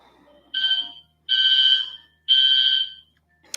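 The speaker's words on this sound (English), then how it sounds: "Apparently there's a fire alarm going off in my building now." Fire alarm going off in a building, three loud sustained electronic beeps with short gaps between them, clear and close with no one speaking.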